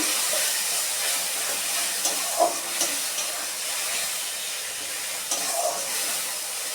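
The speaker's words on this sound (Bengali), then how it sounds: "এবার যে পেঁয়াজটা আমি বেটে রেখেছি, পেঁয়াজ আর আদা আর একটা টমেটোর মধ্যে দিয়ে সেটা আমি দিয়ে দেবো। একটু কষিয়ে নেব।" Onion and ginger paste with tomato sautéing in a pan, giving a steady, low sizzle with faint hiss throughout and occasional soft stirring scrapes near the middle and end; no one speaks.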